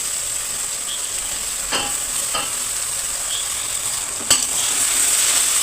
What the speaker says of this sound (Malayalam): നല്ലപോലെ ഇളക്കി യോജിപ്പിക്കണം